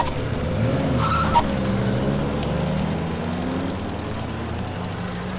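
Several cars in a film comedy scene swing around in an abrupt about-turn, a steady engine roar with tire screech and skid rising in the first seconds, then a continuous rumble that holds loud to the end, no voices.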